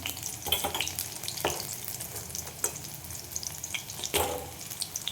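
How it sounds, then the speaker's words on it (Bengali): Soybean chunks fry in hot oil, a continuous soft sizzle broken by several sharp scraping stirs of a spoon in the pan, fairly quiet and close, with no voices. "এইভাবে সব ভেজে নেব।"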